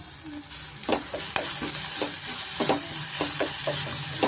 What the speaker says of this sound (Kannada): ಎಣ್ಣೆನಲ್ಲೇ ನಾನು ಫ್ರೈ ಮಾಡ್ಕೊತಾ ಇದ್ದೀನಿ